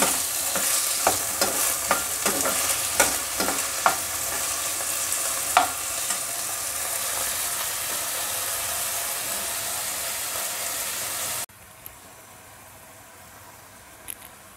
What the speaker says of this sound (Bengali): ডিমটা আলুটা ভেজে নিচ্ছি।